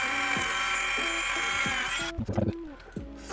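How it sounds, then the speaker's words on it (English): A small driver whirrs steadily as screws are driven through 3D printed PLA into TPU, giving a close, high-pitched motor whine with rhythmic clicks. It stops partway and a few soft handling knocks follow. "Now let's get those screws back in there."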